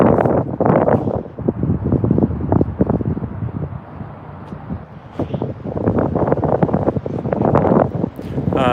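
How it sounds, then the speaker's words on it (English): Gusty wind blows across the microphone on a Tokyo street between Akasaka and Hanzomon, a steady low roar that rises and falls in loud buffets for several seconds. "let me wait for the wind to stop"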